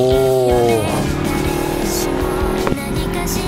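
A Yamaha YZF-R25 motorcycle engine drones steadily at close range while riding on Japan's Noto Peninsula, its pitch dropping after a rev early on, with road rumble throughout.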